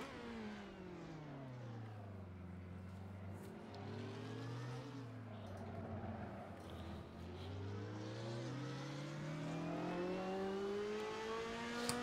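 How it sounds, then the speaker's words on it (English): Race cars in a sim racing game, including a GT3 car, rev and accelerate through gear changes, engine pitch climbing, dropping and climbing again in long sweeps, loud and continuous without talk. "I might just freaking got passed by a GT3 car."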